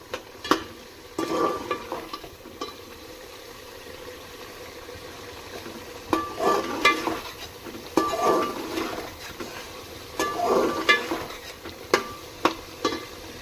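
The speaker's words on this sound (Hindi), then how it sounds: "बातों ही बातों में हमारी भुनाई भी कंप्लीट हो गई" Peas and masala frying in oil in a pot for pulao, with a steady low sizzle and intermittent bursts of stirring and spoon scraping against the pan.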